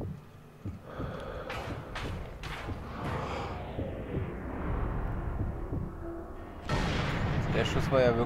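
Gunfire in the World War II sniping video game Sniper Elite 3, sharp booming shot impacts and thuds with a rumbling tail, then a louder burst near the end, with some game voice underneath.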